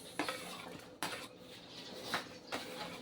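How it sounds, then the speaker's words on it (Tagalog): Ginger, tomato and onion going into a pot for sinigang na bangus, heard as four separate clanks and scrapes of a utensil against the pot at a steady pace, fairly close and soft. "ilagay na natin lahat ang ricado. Luya, kamatis, sibuyas"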